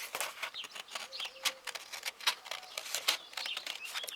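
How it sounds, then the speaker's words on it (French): Birds chirp and call outdoors in short, bright bursts, several overlapping notes scattered unevenly at a moderate distance over soft background patter. "Je vous laisse écouter les oiseaux en attendant."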